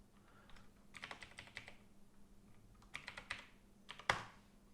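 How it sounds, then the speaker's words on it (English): A password is typed on a computer keyboard in short, quick bursts of crisp key clicks, ending with one louder keystroke, close and fairly quiet with no voices. "we insert the password that we have"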